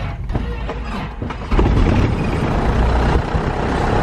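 A Piper Cherokee 180 light aircraft engine cranks with a few uneven chugs, then catches into a loud, steady, close propeller roar.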